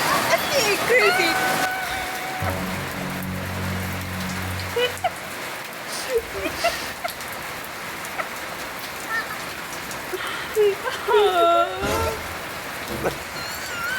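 Steady rain pattering on surfaces throughout, a constant close hiss of drops, with talking and other voices over it at times.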